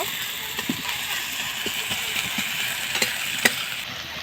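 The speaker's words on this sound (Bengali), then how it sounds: "এই যে পেঁয়াজগুলো তো আমার লাল লাল করে ভাজা হয়ে এসছে" Onions frying in a pan for a spiced eggplant pickle, giving a steady close sizzle with occasional stirring clicks and scrapes throughout.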